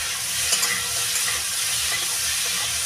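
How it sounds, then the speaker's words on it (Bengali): Fish curry with fish head being stirred in a pan: a steady, close, hissing sizzle with faint scrapes, continuous and even throughout. "আর একটু নাড়িয়ে চাড়িয়ে দেবো"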